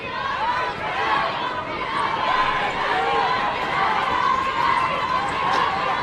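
LCU fans at a women's college basketball game against Texas A&M-Commerce fill the gym with a steady crowd roar and chatter, broad and continuous, heard beneath nearby voices.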